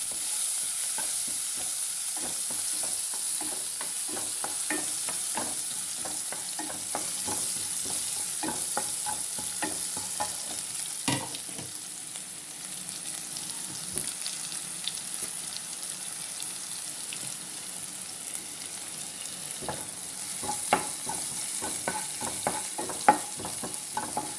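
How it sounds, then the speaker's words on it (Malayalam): Shallots and mustard seeds sizzle and crackle in hot oil for a mussel curry, with steady frying hiss and scattered pops and stirring clinks, close and unbroken, no voices. "നമുക്ക് കടുക് പൊട്ടിയുണ്ട് ഇതിന് ചെറിയ ഉള്ളി കടുക് ചേർക്കുന്നുണ്ട്"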